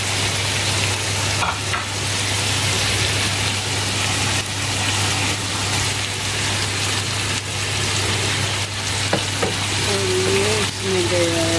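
Whole spices, cumin and masala, with added yogurt, sizzle and fry in a pot for mutton yakhni pilao, a loud continuous crackle, with occasional scrapes and clinks of stirring near the end.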